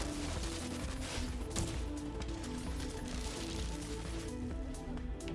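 Gunfire aimed at explosive enemies in The Division 2: a dense, continuous rattle of shots and mechanical clatter, steady and fairly loud throughout the short stretch.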